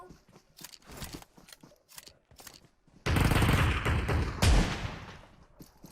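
Sustained burst of gunfire in the video game PUBG Mobile, loud and dense with a heavy thump near the end, following a stretch of quieter in-game sounds and rustling.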